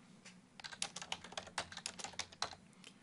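Fast, light clicks of typing on a computer keyboard while a comment is entered in Mastercam X6 software, a steady close patter of keystrokes with no speech.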